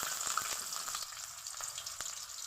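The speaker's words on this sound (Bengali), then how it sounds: "তেল গরম হয়ে গেছে, পেঁয়াজ দিব," Onions frying in hot oil in a wok, a steady crackling sizzle with occasional stirring scrapes and pops, at moderate loudness and with no speech.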